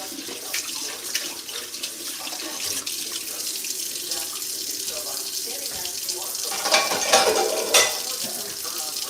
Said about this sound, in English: Want to get the dishes done before we lose power